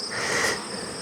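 Honey bees drone steadily in a crowded hive, a close, dense buzz that swells briefly and then holds.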